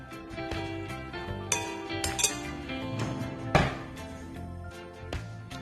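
A spoon stirs homemade cilantro paste into a steamed eggplant and roast pork dish, giving a run of light clinks and scrapes against the bowl, several sharper taps standing out, close and fairly quiet with no talking.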